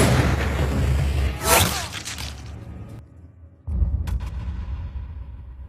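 Police gunfire in a Korean heist film scene at a bank robbery, with loud blasts and whooshing impacts in the first two seconds, a sharp drop to near quiet, then a sudden loud burst and rumbling aftermath.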